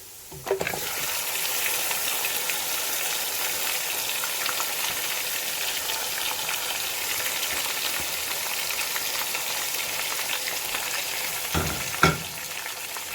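Marinated mutton chops fry in a yogurt masala, giving a steady, dense sizzle throughout with a couple of brief louder clatters of stirring near the start and end; no voices.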